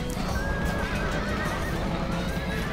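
Horses neighing and hooves clattering amid a dense, continuous battle din in a video game, whinnies rising above a steady roar of many riders as horse archers engage Gallic cavalry.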